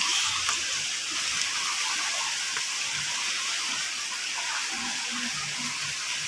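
Fast-flowing floodwater rushes through a flooded urban canal, a constant loud hiss and gush of churning water that holds steady throughout, with no talking.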